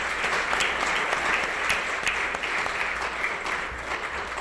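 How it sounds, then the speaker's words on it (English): Audience applause at an awards celebration for Judge Michael Martone, a continuous dense roar of many hands clapping with occasional sharper claps, moderately loud and steady throughout with no speech over it. "he deserves a round of applause as well"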